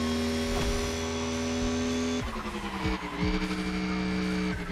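A supercar engine in The Crew Motorfest revs hard with a loud, buzzing, high-pitched whine that drops sharply after about two seconds, then climbs again through quick gear shifts; no talking is heard.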